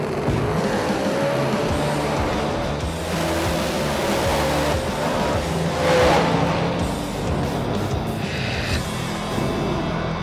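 A no-prep street-racing drag car makes a full pass down the strip, with a continuous loud engine roar and tire noise that swells near the middle, heard from the track side without commentary.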